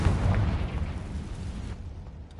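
A Confringo fire spell in Hogwarts Legacy bursting into an explosion, a deep booming blast that rolls and fades out over about two seconds, loud and close.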